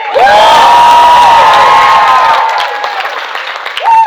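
Loud crowd cheering and applause at a Fright Fest panel at Midsummer Scream, a dense burst of whoops and clapping close by that fades after a few seconds, then rises again briefly.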